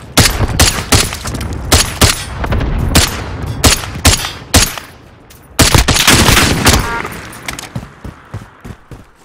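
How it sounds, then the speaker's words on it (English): Loud, close gunfire in Call of Duty: Warzone, rapid bursts of shots with brief gaps, firing in clusters over about nine seconds. "Terrible shooting."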